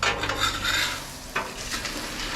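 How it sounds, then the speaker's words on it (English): Chex Mix being stirred and tossed with spatulas in a pan, producing close, dry rustling and scraping in uneven strokes, with a brief louder scrape partway through. "Mix it all in"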